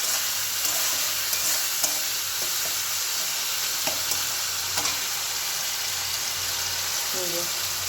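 Green jackfruit and potato frying with ginger, chili powder, turmeric and cumin powder in a pan, a steady soft sizzle with occasional scrapes and clicks of stirring, close and fairly quiet.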